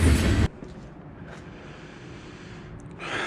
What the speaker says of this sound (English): sorry about the noise on the train there.